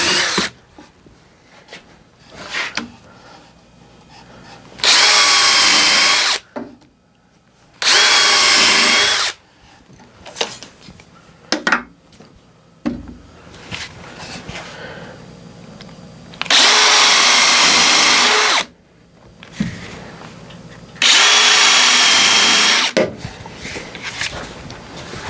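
A power drill drives screws into a wooden flower stand in four loud whirring bursts, each a couple of seconds long, with quieter handling and clunks of wood between them.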